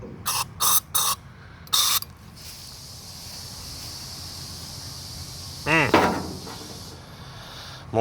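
Brake cleaner sprays onto a Chevy throttle body injection unit in short, sharp hissing bursts, then a long steady hiss, close up, with a brief voice heard near the end.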